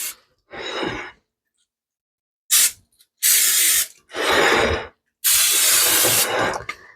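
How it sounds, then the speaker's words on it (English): Cooking spray hisses into an 8x8 baking pan in several separate bursts of varying length, close and fairly loud, with short silent gaps between them. "We're going to spray it."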